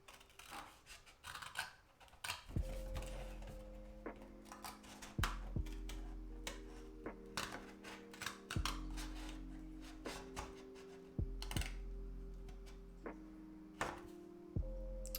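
Parts for a Robotime Miller's Garden miniature kit are cut out with sharp, close snips and clicks in an irregular rhythm. Steady tonal music plays underneath throughout.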